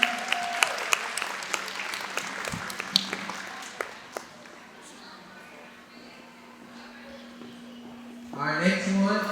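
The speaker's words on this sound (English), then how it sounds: "Okay, let's applaud her, please." An audience at a community baby shower claps together, a dense patter of hands that fades out over several seconds; a voice then speaks over a low hum.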